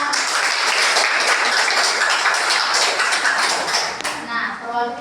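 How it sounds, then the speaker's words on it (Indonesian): Dense, steady applause from a classroom group of students fills the whole stretch and thins slightly near the end. No voices stand out. "Tepuk tangan untuk kelompok 2."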